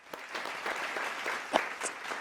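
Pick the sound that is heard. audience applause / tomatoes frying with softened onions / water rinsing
audience applause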